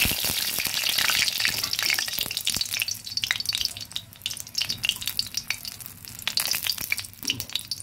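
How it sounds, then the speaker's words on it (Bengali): A dried red chili tempering in hot mustard oil crackles and spits with irregular sharp pops over a fizzing sizzle, loud at first and then settling into scattered crackles. "সর্ষের তেল। দিয়ে দেব একটা শুকনো লঙ্কা ফোড়ন।"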